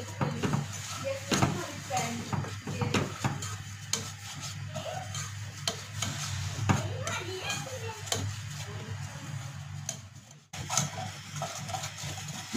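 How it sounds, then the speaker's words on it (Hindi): Semolina dry-roasting in a pan for egg halwa, stirred steadily with a spoon, giving a continuous scraping rustle with soft sizzle and a low steady hum underneath, no talk over it. "सूजी को 3 से 4 मिनट के लिए जो है हम भून लेंगे"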